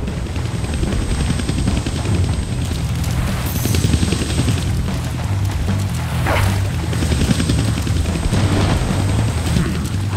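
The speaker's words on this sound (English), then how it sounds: "I can't kill that chopper with my guns," A helicopter in the Deadpool video game thrums steadily and loudly amid booming impacts, a dense, continuous rotor chop with blasts layered over it throughout.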